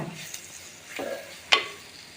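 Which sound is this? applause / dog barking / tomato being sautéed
tomato being sautéed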